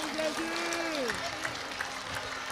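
A church congregation claps along during a worship service, a dense, steady patter of many hands under loud voices singing and calling out.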